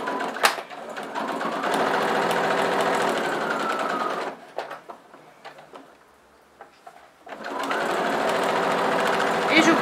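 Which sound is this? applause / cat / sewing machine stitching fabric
sewing machine stitching fabric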